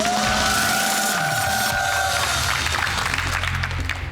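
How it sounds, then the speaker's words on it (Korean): A KBS studio audience on a Korean TV quiz show claps after a contestant's correct answer, a dense, steady applause that fills the whole stretch while sustained tones ring out early on. "벌써 박수가 나오네요"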